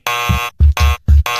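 Radio show buzzer in a studio, loud harsh electronic buzzes sounded in repeated bursts with short gaps between, close and dominant.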